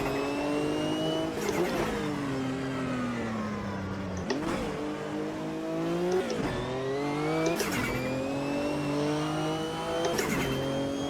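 Class C race car engine in a racing video game, held at full throttle through repeated rising revs and sharp gear shifts, loud and continuous with no voices.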